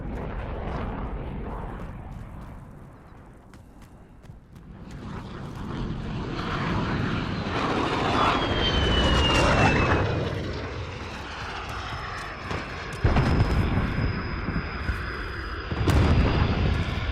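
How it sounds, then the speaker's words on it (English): A friendly VTOL aircraft flies overhead in the Modern Warfare video game, its engine roaring and swelling in a sustained drone, with a few sharp bursts near the end. "Friendly VTOL in the air."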